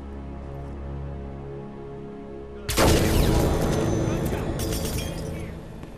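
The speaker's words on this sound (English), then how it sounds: "Gunshot!" A sudden loud gunshot erupts in the Hitman: Absolution video game, cutting through a low ambient hum and leaving a long, noisy, crackling wash of reverberating debris and echo behind it.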